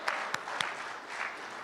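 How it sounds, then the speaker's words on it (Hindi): Short burst of audience clapping at a Republic Day kavi sammelan poetry gathering, a few sharp distinct claps over a soft wash of applause. "सलाउद्दीन साहब के लिए जोरदार तालियां।"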